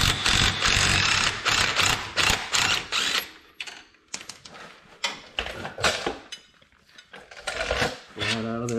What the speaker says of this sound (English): take a 19mm socket, put it on top of that.